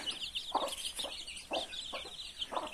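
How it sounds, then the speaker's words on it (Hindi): Backyard chickens being fed grain cluck in a series of about five short bursts, close by, with high chirps from smaller birds running through the background. "अभी मैं सारे मुर्गों को भी दाना दे दिया है।"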